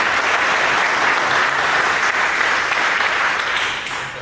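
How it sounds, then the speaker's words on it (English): Sustained applause from a tech conference audience after a talk on BSD systems and coreboot, dense and steady throughout before tapering slightly at the end. "Give a round of applause"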